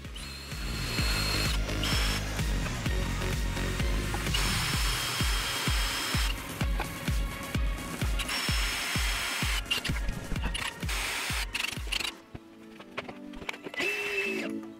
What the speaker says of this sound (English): I decided to drill the mounting holes with everything connected together